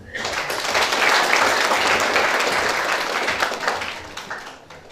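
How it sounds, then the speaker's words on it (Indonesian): Church congregation applauding at a Batak wedding blessing, a dense, sustained burst of many hands clapping that swells early, holds steady, then thins and fades toward the end. "Mari kita sambut dengan tepuk tangan"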